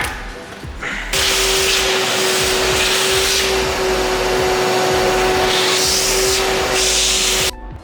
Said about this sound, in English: I'm just gonna use the vacuum.